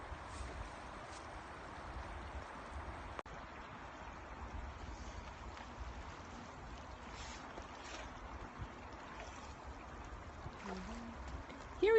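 Water of Potash Brook, an impaired stream, flowing steadily outdoors as a continuous broadband wash with some wind noise, no talking.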